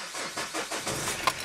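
Diesel engine of a second-generation Renault Clio cranking and catching, a short run of chugging starter pulses close by.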